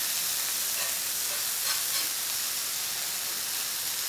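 Smash burger patties topped with cheese sizzle steadily on a hot griddle, a loud, continuous crackling fry held close up with no break and no talking.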